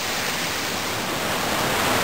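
A mountain river rushing through jungle, a dense, steady roar of water that stays loud and unbroken throughout.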